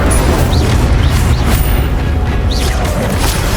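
An Incendio fire spell blasts during combat in Hogwarts Legacy, loud booming bursts of flame layered in a dense, continuous roar of battle effects with no pauses.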